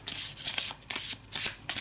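A quick riffle shuffle of an Arkham Horror encounter card deck for Miskatonic University, brisk papery bursts in several close, loud rapid passes.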